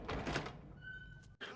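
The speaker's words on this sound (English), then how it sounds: "The door is open." A door opens in an animated holiday film, a short thunk and creak ending in a brief sharp cutoff, heard under film dialogue and score.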